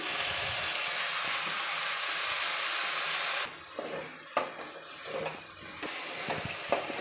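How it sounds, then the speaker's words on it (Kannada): Tomato puree sizzles loudly in a pan of frying okra, a steady dense hiss that drops to a softer crackle as the mixture is stirred, with occasional scraping and spatter. "ಟೊಮೊಟೊ ಪ್ಯೂರಿ ಹಾಕಿದ್ಮೇಲೆ ಒಂದು ಎರಡು ನಿಮಿಷ ಇದೇ ಥರ ಫ್ರೈ ಮಾಡಿ"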